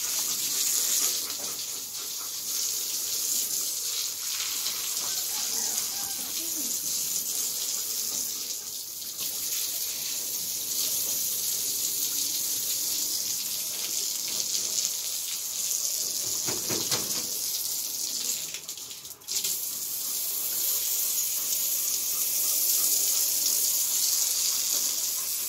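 Water runs steadily from a tap for the whole stretch, a continuous close hiss with small shifts in flow and no talking.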